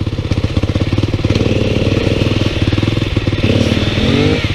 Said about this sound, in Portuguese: Olha aí, a motinha não deu pra passar.